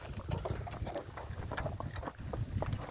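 Draft horse hooves clop at a steady walking pace over hard, stony ground, fairly faint and alone.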